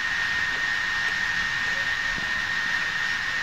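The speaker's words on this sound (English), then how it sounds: "the fans fired up and started producing the traditional jet engine noise as seen with other machines" An old custom-built gaming laptop with its cooling fans running flat out, a loud, steady whooshing roar with a constant high whine, unbroken and close, with no talking.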